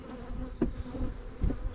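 Honey bees buzz steadily around a hive during beekeeping work, a close, continuous insect drone with a few louder passes near the listener.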